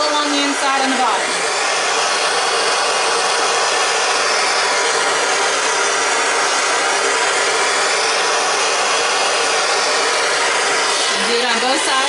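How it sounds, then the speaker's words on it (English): A gas torch flame roaring continuously as it heats a silver ingot mold and crucible for casting, a loud, steady close-up rush of burning gas with no pauses. "the flames themselves are going to continue to heat the mold up to where it needs to be"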